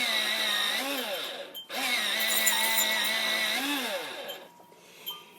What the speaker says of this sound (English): I'm going to sharpen that with my electric sharpener